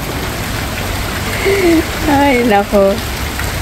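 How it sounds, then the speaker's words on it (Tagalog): Heavy rain pouring steadily near a swimming pool, a dense loud hiss of drops throughout while someone speaks briefly over it. "Hindi ako pupunta doon kasi malakas ang ulan."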